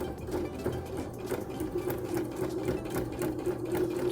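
A sewing machine runs a patchwork seam for a placemat block with a half-inch presser foot, giving a close, continuous, even mechanical whir of rapid stitching with no pauses.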